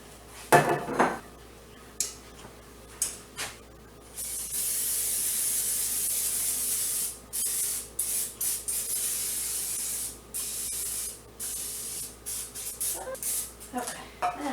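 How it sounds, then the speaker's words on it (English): Cooking spray hissing into a 9 by 13 casserole dish, a long steady burst followed by shorter spurts, with clinks of dishes and utensils and a person talking at times. "I need to grease my casserole dish."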